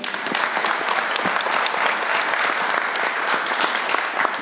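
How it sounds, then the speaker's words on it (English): A conference audience claps continuously, a dense, even applause of many hands sustained throughout, with no voices over it. "a quick round of applause for all the people that have done it"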